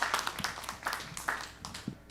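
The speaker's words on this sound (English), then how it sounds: "Big round of applause for Mr." Applause from an audience at a political candidate forum, a brief patter of scattered clapping at moderate level with no talk over it.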